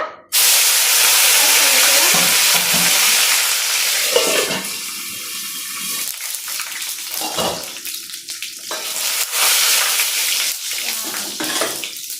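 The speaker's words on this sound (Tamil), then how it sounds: "இந்த சோம்பு நல்லா கொஞ்சம் ஆயிலோட பொரிட்டோம்" Fennel seeds fry in hot oil for mutton thani kuzhambu, a loud hissing sizzle that starts abruptly and gradually softens, broken by a few stirring scrapes and sputters.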